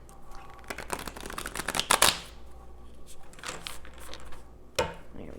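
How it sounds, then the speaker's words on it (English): Tarot cards shuffled by hand in quick riffling bursts, loudest in a dense flurry near the middle, with softer rustles and a final snap toward the end. "I'll shuffle the cards because I know people really like me to do this in the moment."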